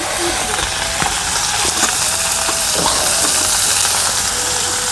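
Chopped onions go into hot fish oil, giving a loud, continuous sizzle and hiss with scattered crackles throughout.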